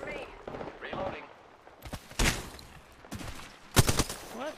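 Gunfire in a video-game firefight comes in two loud, rapid bursts after a quieter stretch, with a voice talking between and around the shots.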